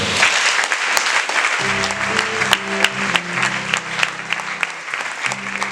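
A church congregation applauds and cheers the Lord during a service, with sustained loud clapping and crowd noise alongside steady low instrumental tones.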